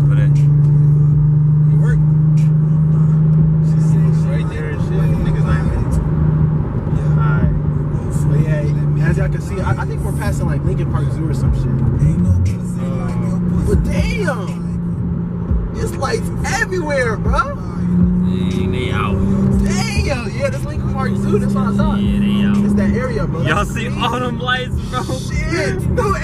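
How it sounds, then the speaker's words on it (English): A car engine idles and runs under close conversation, a steady low hum that holds throughout with slight shifts in pitch while people talk over it on a locked-down Chicago street. "I'll turn on the engine."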